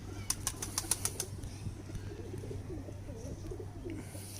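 Large domestic pigeons kept by a fancier flap their wings in a quick burst of sharp claps, then settle into soft, low cooing that continues close by under a steady hum.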